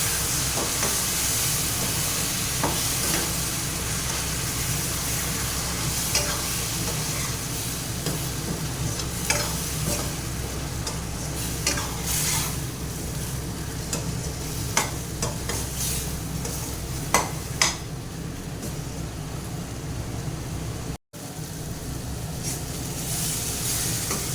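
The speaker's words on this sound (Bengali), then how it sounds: "মশলাটা আর আলু সুন্দর করে ভেজে নেব।" Spices and potato pieces frying in a pan for a Bengali fish curry with cauliflower, a steady sizzling hiss throughout with occasional scraping stirs, close and continuous with no talk.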